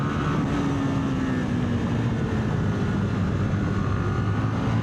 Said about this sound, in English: Great feeling engine, a great sounding engine.